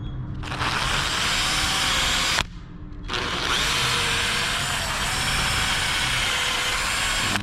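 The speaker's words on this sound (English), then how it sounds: "drill in about 1/4 of an inch" A power drill bites into a split wooden door jamb up close, running steadily and loudly, stopping once for a moment, then drilling on without a break.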